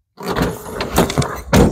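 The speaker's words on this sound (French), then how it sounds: "On va refermer" Someone closes the rear engine lid of a 1961 Volkswagen Karmann Ghia, giving several close metallic clunks and rattles of the latch, ending in a solid final thud.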